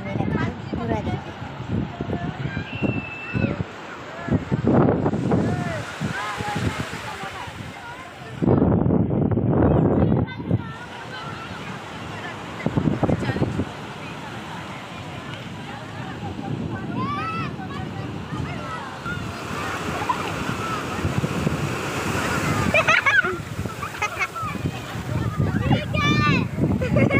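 Sea waves wash onto Naigaon beach at Uran in surging, rushing bursts, heavy wind buffeting the microphone throughout; no clear talk over the steady roar.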